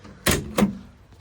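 Door of a 1991 Jeep Wrangler with a soft top, opened with two quick, close clunks: a sharp latch pop followed by a second thud as the door swings free, then quiet.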